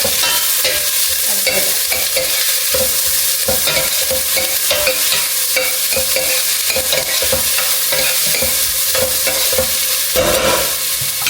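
Onions sautéing in a pan for a kale thoran, with steady close sizzling and repeated scraping strokes of a spoon stirring through the whole stretch.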